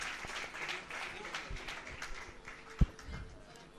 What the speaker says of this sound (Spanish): Dale un fuerte, fuerte aplauso al Señor, al que vive,